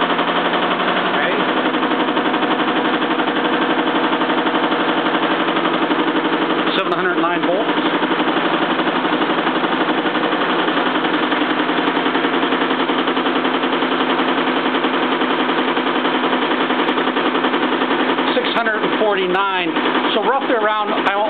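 A generator engine runs with its alternator attached, holding a loud, steady drone throughout, with brief wavering shifts in tone near the middle and again toward the end.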